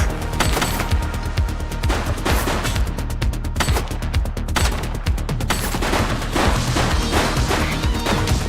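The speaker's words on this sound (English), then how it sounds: "She's shooting!" Rapid bursts of gunfire in a shootout in the police game The Precinct, loud and close, with a dense volley of sharp shots clustered in the middle of the stretch.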